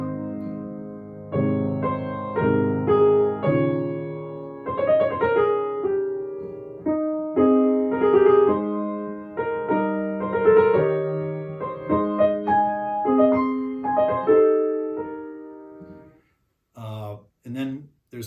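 Solo piano plays a quiet, slow Beethoven movement in strict, literal rhythm, with soft sustained chords and melody notes, close and gentle; a short burst of speech comes at the very end.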